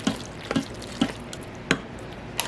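Cooked rice or drained food being stirred in a pot with a spoon, five or six separate scraping clinks spaced roughly half a second apart, fairly close and not loud.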